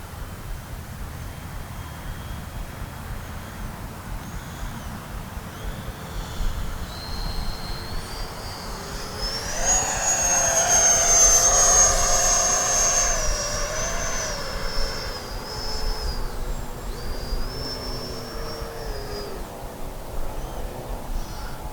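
An FMS Futura 80mm V3 electric ducted-fan RC jet comes in to land. A steady whine rises to a louder, nearer pass with a sweeping pitch, then eases off into continued fan noise.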